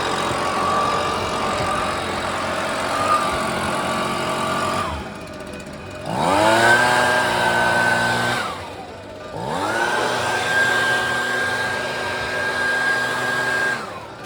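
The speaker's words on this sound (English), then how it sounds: "So yeah, the Husqvarna and the leaf blower makes quick work of this job." A Husqvarna leaf blower clearing yard debris, its loud motor whine running in three long bursts, dropping briefly between them as the throttle eases off and then revving back up.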